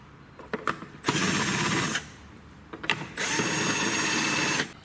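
Power tool whirs in two short bursts, each lasting about a second and a half, driving out the lid screws of a PM602 pump station, with faint clicks and handling noises between the runs.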